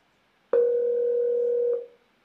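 A Zoiper softphone rings an Asterisk extension hosted on a Raspberry Pi: one steady, clean electronic ringback tone starts abruptly, holds about a second and a quarter, then cuts off, alone in silence.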